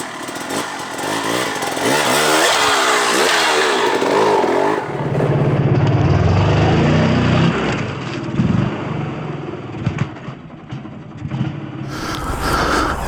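A KTM 300 enduro two-stroke dirt bike revs hard and loud as it climbs up and over a log on an uphill trail, its buzzing engine surging then dropping to a lower idle with bursts of throttle.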